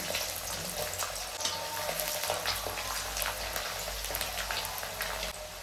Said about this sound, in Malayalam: രണ്ട് സ്പൂൺ കടുക് ഇട്ട് കൊടുക്കാം ഇനി ഇതിലേക്ക് വെളുത്തുള്ളി ഇട്ട് കൊടുക്കാം